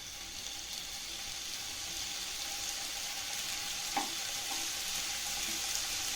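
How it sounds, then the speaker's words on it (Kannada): Paneer tikka pieces roast in a little oil in a frying pan, giving a steady, soft hiss of frying throughout with a couple of faint clicks of turning partway through; no one speaks. "ಎಲ್ಲ ಕಡೆನೂ ತಿರುಗಿಸ್ತಾ ಇದನ್ನು ರೋಸ್ಟ್ ಮಾಡಿ."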